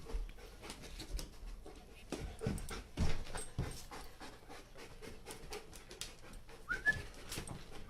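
A police K9 dog pants in quick, uneven breaths close by, with a few soft whimpers and scattered rustles and knocks between them, all fairly quiet.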